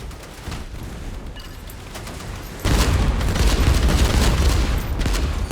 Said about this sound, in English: Guess the rockets really do a lot of damage.